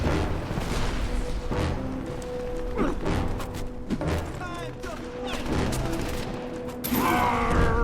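A video game battle with dense gunfire, booms and rocket blasts in continuous loud clatter. Voices and radio chatter run over the fighting.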